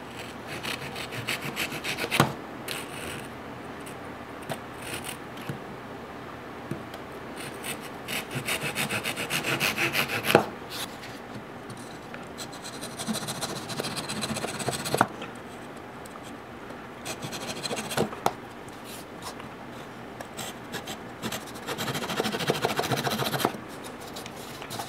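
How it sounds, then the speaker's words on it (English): A Japanese pull saw cuts soft basswood in close, rasping strokes that come in uneven bursts with short pauses between them, and no voices. "I'm going to use this Japanese pull saw and just take it easy."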